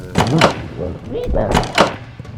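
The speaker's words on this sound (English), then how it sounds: "the door sound is very direct, where if you can really hear the echo on that closing the door sound as I go into this room" A heavy door closes in a tight dungeon room in a video game, giving a direct, dry thud, heard under someone talking throughout.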